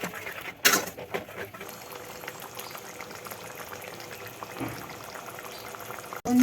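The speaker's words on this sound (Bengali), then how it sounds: "এবার আমি জল ঢেলে দেবো এর মধ্যে" Water hits hot spice paste frying in oil for a katla fish kalia, starting with a sharp splash and hiss, then settling into a steady bubbling sizzle close by.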